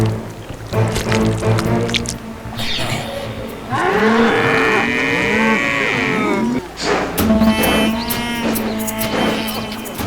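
Cows and bulls moo repeatedly in a farm setting for a kids' cartoon, with long drawn-out lowing calls loud and close. Several animals call one after another with no talk over them.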